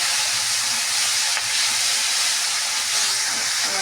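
Spiced potato mixture sizzles and sautés in a pan while cooking for potato bora fritters, a loud, steady frying hiss heard up close with no talking.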